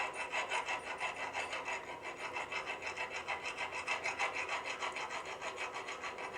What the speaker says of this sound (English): must file the shaft in order to pull it out of its bore in the case. Use a flat file